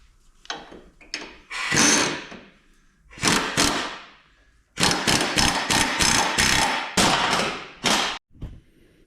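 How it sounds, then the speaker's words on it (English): A ratchet snugs up bolts on the frame brackets of a Chevy Silverado's running boards, heard as close, loud bursts of rapid clicking separated by short pauses, with a final quick stroke at the end. "I'm going to start snugging up the bolts to the brackets to the frame"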